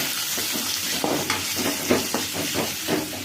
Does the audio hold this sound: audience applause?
no